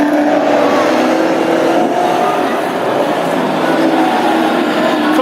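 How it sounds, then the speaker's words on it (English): Classic hot rod race cars, including a Chevette with a 1700 crossflow engine, roar loudly and continuously during a heat at Ipswich, with a commentator talking over the engine noise. "22 Robert Montagna, racing his Chevette with 1700 crossflow engine in there."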